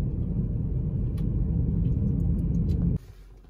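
A car rolls toward the exit of a lakeside park near a forest, a steady close engine and road rumble that suddenly drops to quiet near the end.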